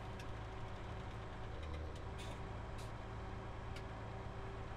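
A tractor's engine idles steadily in Farming Simulator on a muddy, compacted farmyard by a lake, a constant low drone with a few faint clicks on top.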